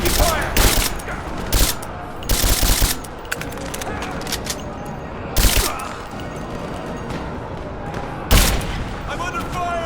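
Gunfights in the Rise of the Tomb Raider video game: bursts of automatic and single gunshots cracking loudly at irregular intervals over a constant roar of battle, with shouted voices mixed in.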